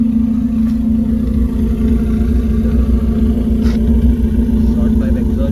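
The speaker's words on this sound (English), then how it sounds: "And that got the car started up." A Suzuki car engine runs steadily close by with a loud, continuous mid-pitched drone, with no clear start or sharp revs.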